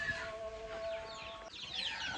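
Chickens clucking and calling nearby in a village, short bursts of cackling over a faint background.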